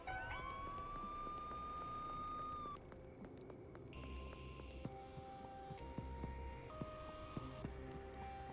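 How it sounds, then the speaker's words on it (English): A police car siren in the video game Schedule 1 wails as a steady high tone for a few seconds and then cuts off. Game sounds and soft clicks carry on underneath. "Oh, that's a police car."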